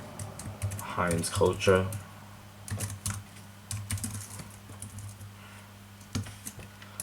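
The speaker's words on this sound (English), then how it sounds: "I'm going to type now in letter size 40" Computer keyboard typing, quick clusters of light key clicks scattered across the clip, heard under a voice speaking at the start.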